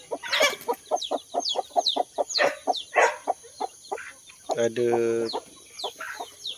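Chickens kept at a farm plot cluck in a quick repeated series of sharp close calls, with one longer drawn-out squawk partway through, and a person briefly speaks among them.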